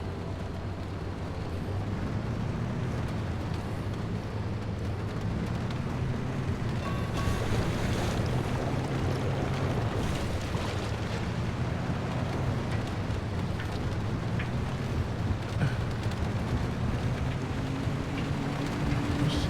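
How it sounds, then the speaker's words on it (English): In the survival driving game Pacific Drive, a car pushes through water with a steady, rough wash of churning and sloshing under a constant low engine drone, continuous and fairly loud with no speech. "We're going to go through water."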